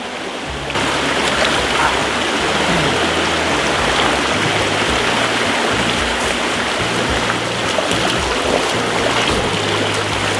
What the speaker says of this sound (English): Here's the stream.